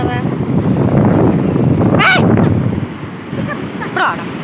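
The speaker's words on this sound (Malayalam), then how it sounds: "തീര വരുന്നുണ്ട്, വലിയ തീര വരുന്നുണ്ട്" Steady roar of surf washing in at Parappanangadi Beach, Kerala, with wind buffeting the microphone and a couple of brief voices calling out over the waves.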